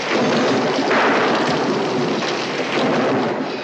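Heavy rain pours steadily during a thunderstorm at night, a loud continuous hiss of downpour with rolling thunder swelling underneath and no voices.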